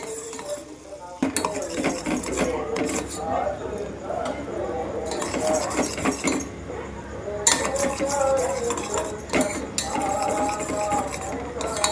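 A spoon stirs cake mixture in a pan, making irregular metallic clinks and scrapes close by, while a person talks over the stirring.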